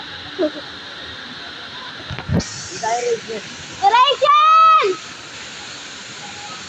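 Steady broadband roar of a waterfall fills the background throughout, with people shouting and calling over it, including a drawn-out sung call near the end.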